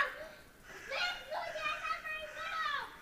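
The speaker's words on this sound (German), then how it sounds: "Kindergeschrei." Children shouting and calling out while playing nearby, their high voices rising and falling in overlapping bursts over roughly three seconds at moderate loudness.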